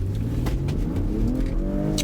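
A 2022 BMW X3 M40i SUV with a turbocharged inline-six and all-wheel drive accelerating hard, its engine note climbing steadily in pitch, loud and close for about two seconds, no voices.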